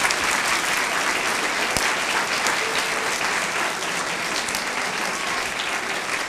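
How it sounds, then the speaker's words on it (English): Audience at an education award ceremony giving a steady, dense round of applause, fairly close and continuous for several seconds, with no speech over it. "Boys and girls, can we give our guests a round of applause"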